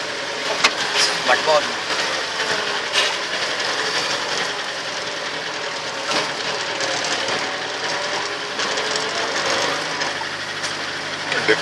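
A jeep engine runs steadily while the vehicle drives a rough safari track, a constant droning rumble with jolts and rattles throughout, and people talk over it.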